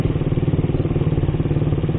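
A rough-running Suzuki Satria motorcycle engine idles up close, a steady, loud, clattering low putter with an even rapid pulse and no talk over it.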